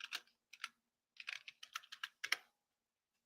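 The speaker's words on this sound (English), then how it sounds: "And I will type in nuclear" Bursts of keystrokes on a computer keyboard, typed at a desk in a few quick clusters separated by short pauses, close and fairly quiet with no talking.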